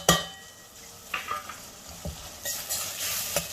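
Vegetables (potato and okra) and masala frying in a pan, a close, soft sizzle broken by a few quick spatula scrapes and stirs, with no voices.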